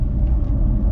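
Porsche Taycan Cross Turismo 4 electric wagon driven at full power on a mountain road, a steady low rumble of tires and motion close by, with no voices.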